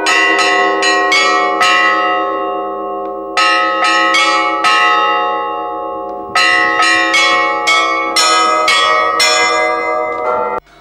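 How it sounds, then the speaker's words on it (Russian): Church bells ring in bright clusters of strikes, played by six hands at a bell-ringing festival, each tone ringing out and fading, with short pauses between bursts of pealing. "сегодня будем играть в 6 рук этот звон"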